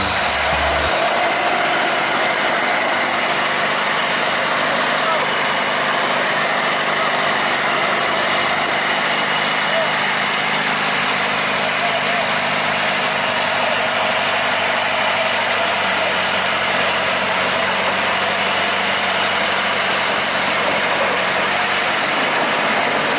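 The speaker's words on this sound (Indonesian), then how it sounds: "lokomotif mulai mundur untuk mendorong lori-lori kosong" The oldest locomotive of the Kedawung sugar mill reverses to push a string of empty lorries, giving a loud, steady engine drone with a low rumble that holds for over twenty seconds with no voices.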